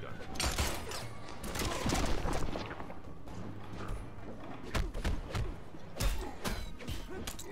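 Rapid gunshots from the character Erron Black in the fighting game Mortal Kombat X, sharp repeated cracks in bursts with thuds and impact crashes amid busy game sound effects.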